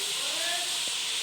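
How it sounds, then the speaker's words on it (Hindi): Cabbage, potato and peas frying in a pan, a loud, steady close-up hiss of steam and sizzle that fills the brief moment. "देख सकते हैं हमारी जो वेजिटेबल्स हैं वो अच्छे से फ्राई हो रही हैं"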